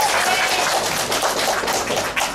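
Audience applause after an Indonesian stage drama performance by the Ambu Hawu group, a steady wash of many hands clapping that fills the clip at an even, fairly loud level.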